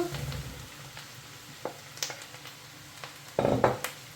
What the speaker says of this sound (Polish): Wszystko razem smażymy.